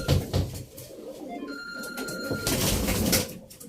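Pigeons in a loft coo close by over a muffled, busy background, with a brief ringing tone partway through.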